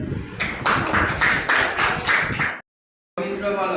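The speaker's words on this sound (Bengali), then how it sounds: "হ্যাঁ, ভেরি গুড। হাততালি দাও।" A classroom of schoolchildren claps together in a steady rhythmic burst that stops abruptly, followed by a short silence and then a voice speaking.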